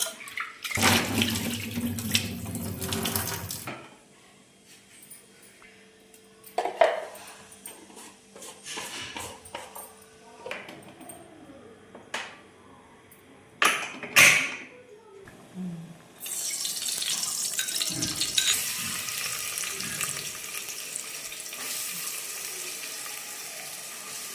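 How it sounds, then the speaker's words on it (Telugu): Tamarind and dal rinsed under a running kitchen tap, water splashing in bursts near the sink with pauses and handling noises between, then a steady stream flows near the end. "చింతపండు పప్పు కడుగుతాం ఒకసారి"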